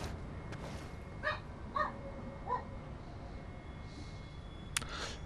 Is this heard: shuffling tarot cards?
no